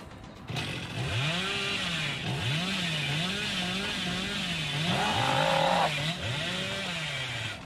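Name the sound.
Hillbilly's chainsaw revving, from video game Dead by Daylight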